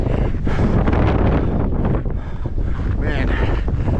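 Strong wind roars across the summit of Highlands Peak at Aspen Highlands, Colorado, a steady, loud, close buffeting that batters the microphone for the whole stretch with no letup.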